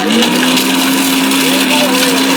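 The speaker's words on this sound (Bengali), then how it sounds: "অলরেডি ব্লেন্ডারের মধ্যে দেখেন আমার এটা কিন্তু প্রায় কমপ্লিটের দিকে" An electric blender runs loud and steady at a constant motor pitch for the whole moment, with a faint voice beneath it.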